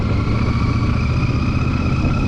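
Royal Enfield Super Meteor motorcycle cruising on road tyres, giving a steady, close engine drone with constant rumble and wind, with no talk.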